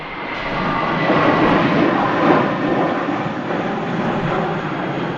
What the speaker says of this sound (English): Lufthansa rolling out to Munich.